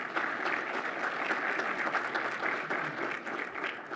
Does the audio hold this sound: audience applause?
yes